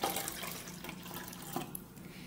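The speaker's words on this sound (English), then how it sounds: "And then we're going to add about half a cup of ice water." Ice water being poured into grapefruit juice gives a soft, uneven trickling and splashing pour for a couple of seconds, fairly quiet and close with no talking.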